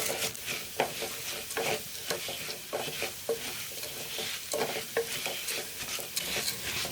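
Toor dal fries in ghee while being stirred, a gentle sizzle broken by frequent scraping and clacking strokes of a spoon in the pan, close and moderately quiet, with no speech.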